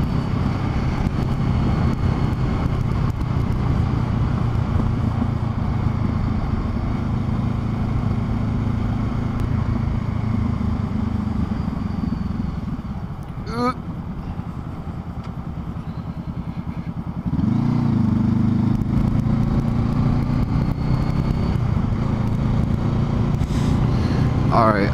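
A 2014 Honda CBR500R motorcycle fitted with a Coffmans exhaust runs with a steady low engine drone for most of the stretch, dipping briefly midway before picking back up, under continuous talk from a rider.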